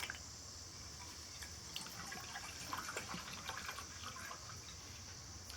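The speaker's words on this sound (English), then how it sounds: "Get some water in here." Water poured into a small camp pot on an ultralight folding camp table outdoors, a soft steady trickle and splash running for several seconds, faint and close.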